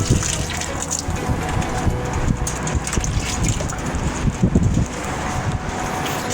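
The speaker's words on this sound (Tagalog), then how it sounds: "Malakas ang hangin" Strong wind buffets the microphone with continuous roaring gusts and rumbling bursts throughout.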